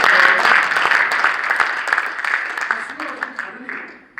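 An audience at a Korean church leaders' representatives meeting in a hotel ballroom claps steadily, the applause loud and close at first and gradually tapering off.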